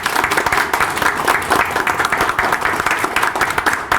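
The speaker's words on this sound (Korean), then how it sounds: "박수." A seated crowd of social welfare workers at a South Korean presidential campaign endorsement event claps in a dense, steady burst of applause lasting a few seconds.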